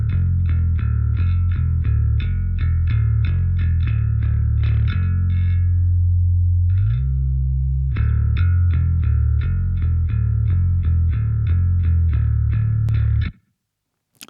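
Processed rock bass guitar with two layered tracks, gritty and distorted with chorus, chugging through a steady run of picked notes, pausing for a held slide midway, then resuming loud and close before a sudden stop.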